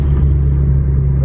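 Steady low engine rumble from inside a Mitsubishi Evo X cruising along, a constant droning hum with no voices.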